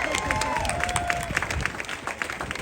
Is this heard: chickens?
no